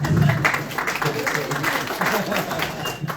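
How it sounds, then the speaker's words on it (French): Applause for a speaker at a wine university lecture comes across as a short burst of steady crowd clapping with some voices mixed in, lasting about three seconds. "faut quand même qu'on applaudisse monsieur"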